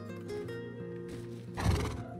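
A horse neighs in the console version of the survival video game Rust. It is a loud, close whinny with wavering, shaky pitch, swelling into a stronger burst near the end, with no talking.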